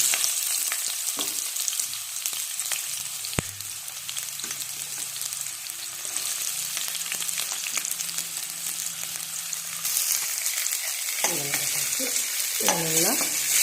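Onions frying and being stirred in hot oil for prawn gravy, a continuous loud sizzle with scraping stirs and a clank, the frying intensifying near the end, close and alone.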